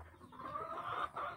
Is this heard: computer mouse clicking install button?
no